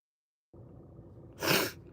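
After a moment of quiet, a soft breathy intake builds into a single short, sharp sneeze close by.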